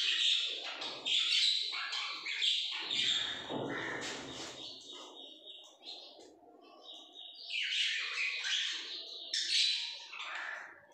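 Many birds at a pigeon and bird farm give bright chirps, tweets and squawks in overlapping bursts nearby, while someone talks in the middle of the calls.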